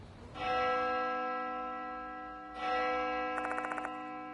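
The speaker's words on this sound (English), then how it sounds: "That bell again." An eerie bell rings in the horror game Spirit Hunter: Death Mark II. Two clear metallic strikes ring out and decay slowly, the second followed by a quick faint chime flutter.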